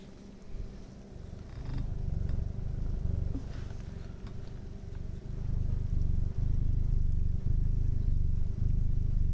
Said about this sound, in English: Tonight you can hear my cat purring.